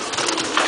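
Buchón gaditano pouter pigeons coo in a loft, with several close, soft, continuous overlapping calls filling the short stretch.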